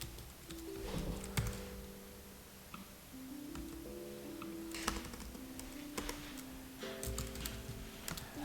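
Computer keyboard keys tapped in irregular bursts while code is written, close and moderately loud, with steady tonal background hum underneath and no talking.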